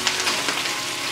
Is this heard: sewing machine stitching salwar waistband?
no